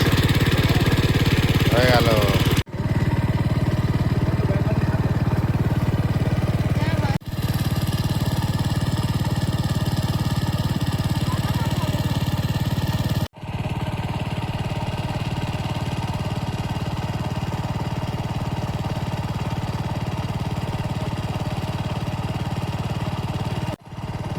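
An engine-driven pump running to drain a pond for catching fish, a loud steady mechanical drone that continues throughout with brief cuts, heard close up.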